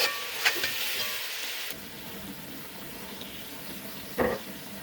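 Soft, steady sizzling of onions frying in a pan until lightly golden, with a few brief clinks and scrapes of utensils, no talking.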